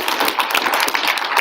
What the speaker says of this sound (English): We could give electrical a round of applause.